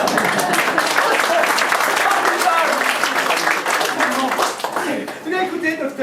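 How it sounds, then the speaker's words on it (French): An audience at a burlesque-style lecture performance breaks into loud, dense applause mixed with voices, holding steady for about five seconds before thinning out. "On peut l'applaudir."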